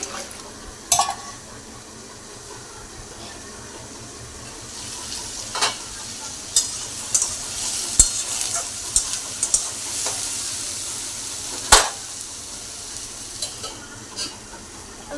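Pointed gourd slices fry in a pan at home, a constant soft sizzle broken by sharp clatters and stirring scrapes of a spatula, with faint running water now and then.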